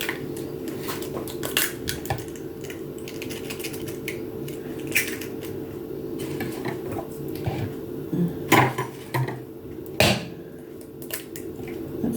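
Two eggs are cracked into a bowl while making zucchini muffins, giving sharp scattered taps and clicks against the bowl over a steady low kitchen hum, with a few louder knocks toward the end.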